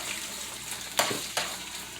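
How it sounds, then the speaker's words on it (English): A steady sizzle of shallots and onions frying in a pan, with a couple of louder hissing bursts as something is stirred or added. "So the shallots are cooking and the onions are cooking."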